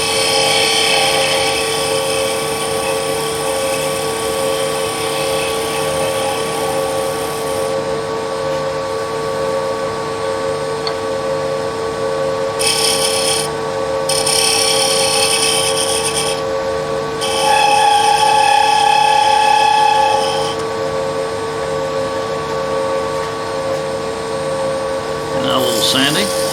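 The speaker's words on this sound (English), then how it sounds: "Go back to our skew chisel." A wood lathe spins steadily with a continuous mechanical whine while a skew chisel cuts a finial, and brief bursts of tool contact rise over the motor hum.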